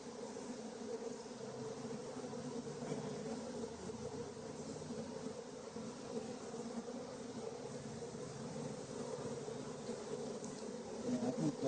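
Honey bees hum inside an open hive during a beekeeper's frame inspection, a continuous low droning buzz that stays steady and close throughout.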